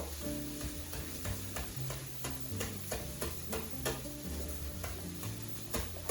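Vegetables for a Spanish omelette fry steadily in a pan, a continuous sizzle broken by sharp stirring clicks and scrapes, with low background tones running underneath and no talking.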